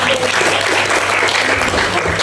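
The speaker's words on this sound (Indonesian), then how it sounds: "Beri tepuk tangan yang meriah." Audience applause at a family harmony talk show, a dense, loud, steady clatter of many hands filling the whole stretch with no pause.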